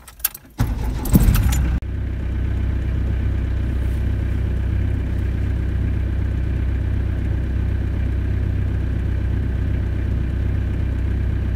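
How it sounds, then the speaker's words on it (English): A campervan's engine is started after keys jangle briefly, then it settles into a steady low idle that continues close by without talk. "I'll just turn on the engine so you can get the engine start."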